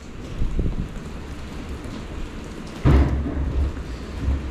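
Rain falling on a New York City street, a steady wash of drops with a sudden louder burst of splashing or rumble near the end, fairly close and without talk.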